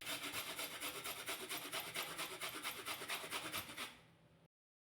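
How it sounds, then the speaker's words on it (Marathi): Onion scraped on the smallest ginger grater in a home kitchen: quick, even back-and-forth rasping strokes, close and steady, then easing off and stopping. "इथे मी आलं खिसायची जी खिसणी असते म्हणजे सगळ्यात छोटी खिसणी त्या खिसणीने कांदा खिसून घेते"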